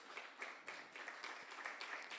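An audience at a spring lecture event claps together, a faint, steady patter of applause heard from a distance, continuous throughout with no voices rising above it.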